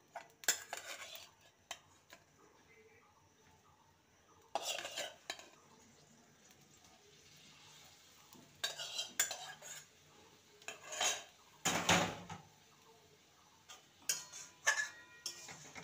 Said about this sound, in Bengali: এবারে ভেজে রাখা পটলগুলো দিয়ে দেবো।